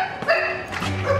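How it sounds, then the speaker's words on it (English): A single dog gives a short bark or two indoors at night, close by and moderately loud, followed by a whining, whimpering tone. "What are you barking at?"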